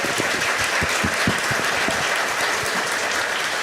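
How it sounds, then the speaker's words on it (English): An audience at a county discussion event applauds its county leaders with loud, steady clapping, close and continuous, with a few heavier individual claps standing out. "Let's give them a round of applause"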